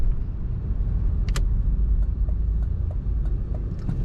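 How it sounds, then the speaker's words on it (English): A 1987 Chevrolet Monte Carlo SS Aero Coupe with automatic transmission drives along, giving a steady low engine and road rumble heard from inside the cabin, with a few faint clicks and rattles on top. "Today we're driving a 1987 Chevrolet Monte Carlo SS."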